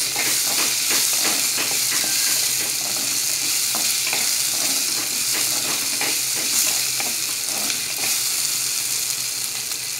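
Tomatoes cook in a fish curry, a steady close sizzle running throughout with repeated scraping stirs and faint clinks, no voices.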